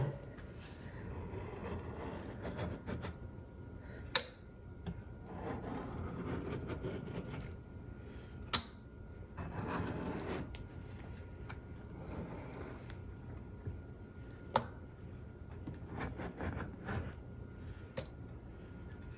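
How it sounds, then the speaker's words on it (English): A baker's scraper drags over a layer of rendered beef tallow, giving soft, rough scraping strokes in uneven bursts with a few sharp ticks, fairly quiet and close. "I'm just gonna use one of these baker's scrapers and scrape that off."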